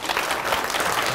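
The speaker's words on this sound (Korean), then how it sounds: "박수로서 마칩니다." Dense, even audience applause fills a short moment at the close of a presentation on enzymes at a microbe museum, a continuous crackling wash of many hands with no voices over it.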